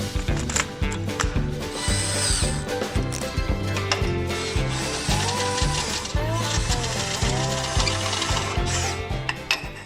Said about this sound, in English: We'll go ahead and drill these out.